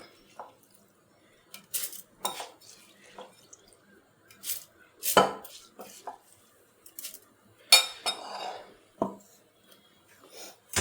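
Drained soaked rice being scooped into a mixer jar in a home kitchen, scattered clinks and scrapes of a spoon against the jar with soft grainy pours between them, close and fairly quiet, with a voice talking briefly.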